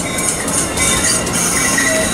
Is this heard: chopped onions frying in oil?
no